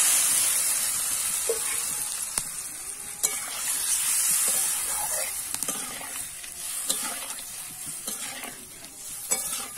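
Water poured into a hot pan of frying fish in a home kitchen, a steady broadband hiss and sizzle with occasional stirring clicks and utensil knocks throughout, fairly close and alone.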